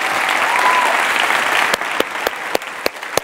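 A theater audience claps steadily for a scientist at a tech-idea event, a dense close wash of applause that gives way to a few sharp, separate knocks or claps near the end.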